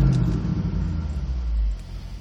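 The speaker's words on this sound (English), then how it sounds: "if I press the accelerator and floor it, it only goes to 2600" A 2013 Shelby GT500 engine revs and holds near 2600 rpm, a loud, close, steady low rumble that eases slightly toward the end, with no talking.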